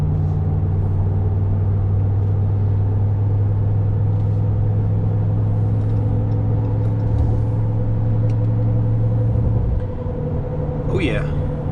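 Mud tires on a Ram Rebel pickup hum and whir at highway speed, a steady low drone inside the cab with road rumble, continuous and loud throughout.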